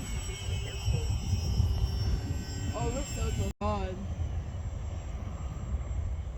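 An AeroScout S 2 RC airplane flies overhead as a steady engine drone running beneath excited talk from nearby people.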